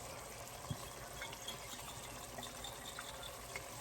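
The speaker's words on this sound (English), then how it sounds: "Add a little bit of water to this" Water poured into a pot of tomato sauce for a rice and beans dish, a steady low gush and trickle running throughout at moderate level, close by, with no voices.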